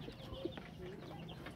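One-week-old native baladi chicks on a rooftop give faint peeps and soft clucking, a few brief high chirps over a low background murmur, heard at a distance.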